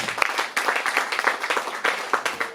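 A church congregation applauding during an Easter service, a brief burst of irregular, fairly close clapping with uneven bursts throughout.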